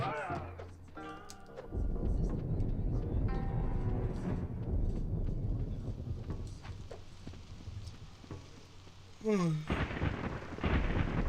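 A thunderstorm plays in a PlayStation video game, with low rumbling thunder and rain under busy game sound effects and a sharp swooping tone near the end, fairly quiet overall.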